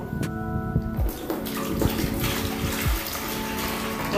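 Clean water poured into a container for mixing tile grout, a soft steady splashing and trickling at close range, with faint harmonic hum underneath and no talking.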